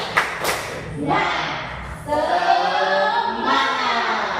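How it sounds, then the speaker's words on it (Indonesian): In a classroom, pupils clap in short unison bursts with a couple of sharp claps up close, while voices chant and talk between the beats. "Tepuk semangat"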